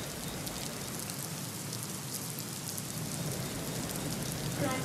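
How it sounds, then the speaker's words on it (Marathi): Heavy rain pours steadily over Mumbai, a dense continuous hiss of drops striking surfaces that stays loud and unbroken throughout, with no voices. "मुंबईमध्ये रात्रीपासून जोरदार पाऊस होतोय।"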